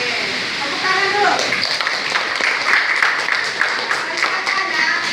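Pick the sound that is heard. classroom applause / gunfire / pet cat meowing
classroom applause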